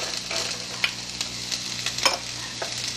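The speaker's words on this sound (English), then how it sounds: "And we'll stir this around until the vegetables here become glazed" Chopped onions, celery and carrots sizzle steadily in a hot pan for a ragu sauce, with occasional scraping clicks from stirring, close and continuous with no talking.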